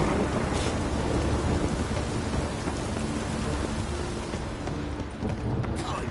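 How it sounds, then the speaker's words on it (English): Steady heavy rain with rolling thunder rumbles fills the open-world weather of the Witcher 3 video game, a dense continuous wash with low booming swells throughout. "Witches have conjured rain. Rain again."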